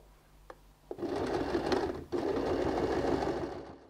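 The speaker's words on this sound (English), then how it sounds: "I'm going to align the edge of my foot on this side and sew a top stitch." A sewing machine runs a top stitch along the edge of a handmade bag, a close, steady whirring hum after a couple of clicks, with a brief pause before it resumes.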